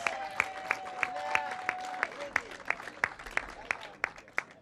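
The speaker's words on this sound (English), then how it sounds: "In second position, give a huge round of applause for Ava Lawrence." Spectators at a youth karting championship final in Al Ain applaud a second-place finisher in the Mini under-10 class, a moderate spread of clapping with a few sharper, steady claps standing out above it.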